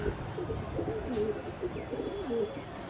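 Brown high-flyer pigeons cooing in a loft in Rajasthan, with steady overlapping low coos and murmurs throughout, close and continuous with faint background noise.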